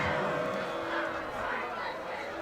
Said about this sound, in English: Crowd voicing their displeasure